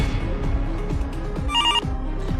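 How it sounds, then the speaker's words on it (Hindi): A telephone rings in a Hindi drama scene, a short electronic ring burst sounding once above a busy background of low thuds and shuffling, with no talking. "अरे राहुल, तुमने फोन क्यों काट दिया?"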